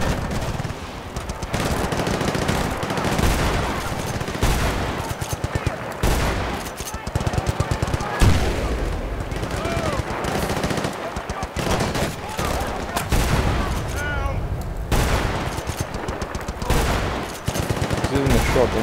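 Shotgun fire in the video game Battlefield Bad Company 2: dense, loud, sustained bursts of gunfire and blasts throughout, with someone talking over parts of it.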